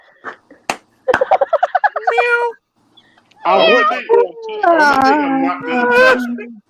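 A person imitates a cat's meowing with a few drawn-out, wavering meows. Short vocal bursts come before them. The sound is loud and close.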